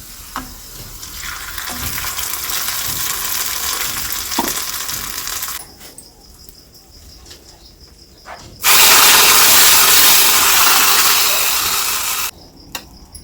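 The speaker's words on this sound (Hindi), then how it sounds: "और लहसुन हमारा अच्छे से सुनहरा पक गया है।" Garlic sizzles in a pot, browning to golden, heard as bursts of crackling hiss that fade and then surge back loudly before cutting off, close up with no talking.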